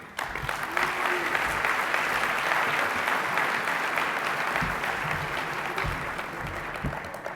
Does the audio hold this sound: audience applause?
yes